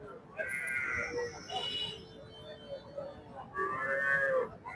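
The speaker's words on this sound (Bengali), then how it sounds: "বিশাল দেহের গরু।" Large cattle at a rural livestock market moo in several drawn-out calls, close and loud, with market murmur behind.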